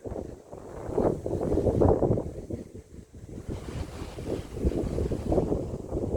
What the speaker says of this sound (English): it's windy and I don't want my hair to blow away